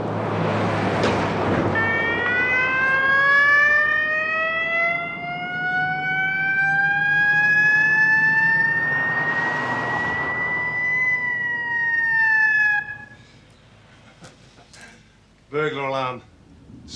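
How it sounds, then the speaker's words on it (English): A burglar alarm siren wails in a nearly new house, its loud tone rising steadily and holding for about eleven seconds before cutting off, followed by a brief burst of sound. "Burglar alarm."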